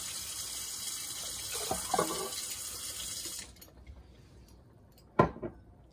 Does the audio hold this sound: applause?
no